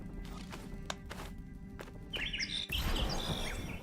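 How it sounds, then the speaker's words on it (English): Bright bird chirps and tweets ring out in short bursts within the Prince of Persia: The Lost Crown video game, starting sparse over an ambient game soundscape before a louder cluster of calls. "The bird's still singing, so we got more."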